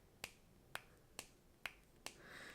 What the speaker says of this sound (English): listen to the click.